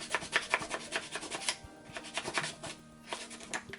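Light, rapid scratchy rubbing strokes, a steady back-and-forth rasp of sandpaper lightly sanding wet paint on a toy blaster, close and fairly quiet with no voices.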